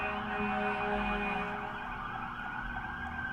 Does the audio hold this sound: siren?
yes